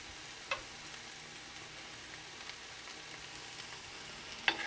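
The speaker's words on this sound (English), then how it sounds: "And with the fettuccine, I'm stirring it." Fettuccine is stirred with a spoon in a pan over a faint, steady sizzle, with two sharp utensil clinks, one early and one at the end.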